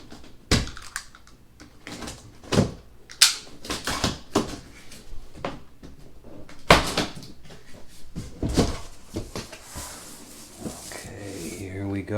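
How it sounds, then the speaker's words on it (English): Packing tape is cut open on the cardboard kit box of a Losi (TLR) 5ive B 1/5 4WD buggy, giving sharp close cuts, scrapes and rustles with a few bumps of the box. "Cut the tape."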